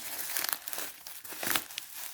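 Plastic wrapping crinkles and rustles up close in quick, uneven bursts as it is pulled and torn.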